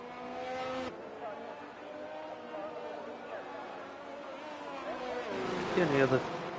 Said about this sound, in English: Why would I not pick a Ferrari for the track tour of Imola?